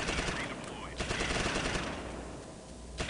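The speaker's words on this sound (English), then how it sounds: "We're under heavy fire. Maybe that was them shooting." Gunfire in the wartime video game Close Combat Invasion Normandy, set in the Normandy hedgerows: dense, rapid machine-gun bursts crackle continuously with sharper volleys, a busy and fairly loud battle.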